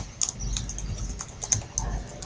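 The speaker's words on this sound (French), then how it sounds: "si on fait var r et on tape notre chaîne de caractères" A computer keyboard clatters as a string is typed into Python code, a quick uneven run of close, crisp keystrokes with no voices.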